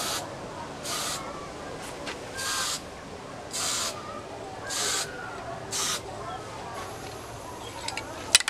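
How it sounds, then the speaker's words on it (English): A spray can of clear coat hisses onto motorcycle engine parts in a series of about six short bursts, close and loud, each roughly half a second long with brief pauses between. "just clear spray can, choke her up,"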